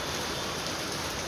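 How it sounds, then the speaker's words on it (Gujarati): Steady rain pours down around a house on a wet afternoon, a dense even hiss of drops on surfaces filling the whole moment without any voices. "અને વરસાદ જેવો ચાલુ છે પાછો"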